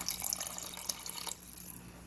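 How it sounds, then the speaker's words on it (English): Water poured from a tap into a thick gravy mixture in a kitchen, heard as a short, faint splashing trickle that stops partway through. "the next step calls for adding some water"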